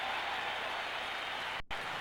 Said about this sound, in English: Crowd loves him. He's getting a standing ovation.